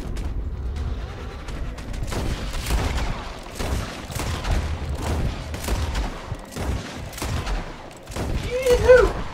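Repeated gunshots ring out in a Red Dead Redemption 2 epilogue shootout, a steady volley of cracks and booms across the whole stretch, with a voice talking over the firing.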